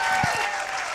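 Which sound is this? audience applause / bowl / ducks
audience applause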